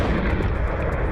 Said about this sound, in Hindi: ईस्टर्न फ्रंट लाइन पर रूस के कोजाची लाहेरी पोस्ट पर हैमर बम से धमाका किया गया